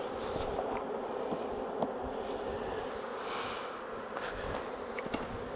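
Honey bees buzz around a hive as a swarm is settled into it, a dense, continuous droning hum close by, with a few soft handling taps and no talk.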